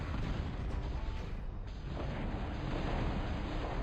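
Battleship artillery fire in the Total Annihilation video game: a dense, continuous low rumble of distant booming blasts with a brief dip midway, fairly faint and steady.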